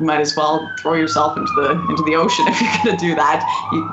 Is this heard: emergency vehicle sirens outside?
yes